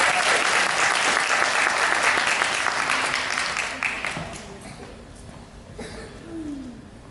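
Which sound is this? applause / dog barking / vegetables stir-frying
applause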